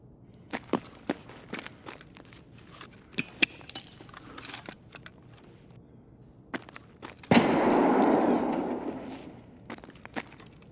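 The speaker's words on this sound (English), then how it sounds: "I'm reloading." A weapon being reloaded in Escape From Tarkov, heard as scattered sharp mechanical clicks and clacks, then a sudden loud noisy burst that slowly fades.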